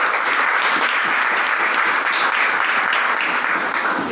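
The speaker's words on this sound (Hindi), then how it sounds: "मैं चाहूंगा जिन्होंने भी आपको यहाँ पे बुलाया है उनके लिए भी एक बार जोरदार तालियां" Audience applause at a company plan presentation, a dense, loud and steady burst of clapping from a large crowd throughout, with no talk over it.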